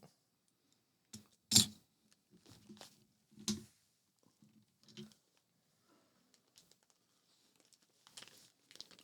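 A hermetically sealed plastic bag of drone gear is cut open with a screw bit, producing scattered crinkles, a few sharp rustling bursts and small clicks, close and fairly quiet with long pauses between handling sounds.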